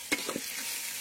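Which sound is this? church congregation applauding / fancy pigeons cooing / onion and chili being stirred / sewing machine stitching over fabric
onion and chili being stirred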